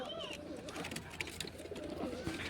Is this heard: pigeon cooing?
yes